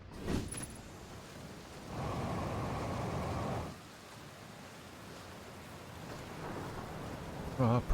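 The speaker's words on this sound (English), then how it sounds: "Purple lightning." Thunder from purple lightning in the video game Outer Wilds, a sustained low rumble that swells for about two seconds and fades into a softer, ongoing stormy hiss.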